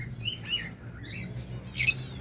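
Small birds chirp and tweet in short bursts over low background rumble, with a brighter, louder call near the end.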